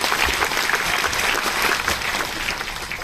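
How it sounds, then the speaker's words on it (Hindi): Enthusiastic audience applause at a Safe Shop business seminar, a loud, dense wash of many hands clapping continuously, with scattered sharper claps standing out. "तो ये इस सिस्टम के लिए और सेफ शॉप के लिए एक जोरदार तालियां हो जाए।"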